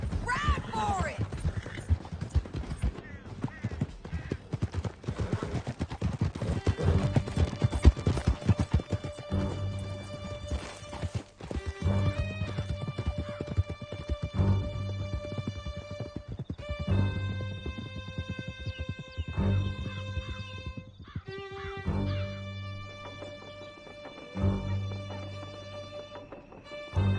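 Horses galloping hard in Red Dead Redemption 2, rapid hoofbeats under a swelling orchestral score with sharp hits and a neigh, loud and continuous throughout.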